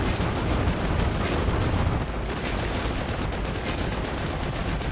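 Ship weapons and missiles fire in sequence during a space battle in Starfield, a loud, continuous barrage of rapid shots and booms that runs through the whole stretch with no pauses.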